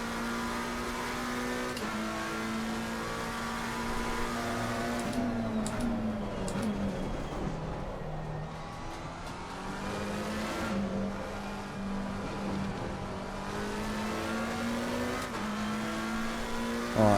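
A race car engine at Imola in Assetto Corsa Competizione drones steadily for the whole stretch, pitch rising and falling through gear changes and a dip as it brakes for a corner, with no talk.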